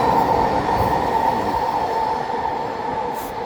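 An eastbound and a westbound SkyTrain meet near an overpass, making a steady, loud rail rumble with a faint wheel squeal that holds throughout, with no voices.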